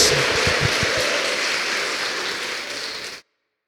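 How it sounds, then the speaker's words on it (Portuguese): A church congregation applauds with dense, even clapping and cheering that holds steady for about three seconds and then cuts off abruptly to silence. "Dê um aplauso a Jesus e diga glória a Deus."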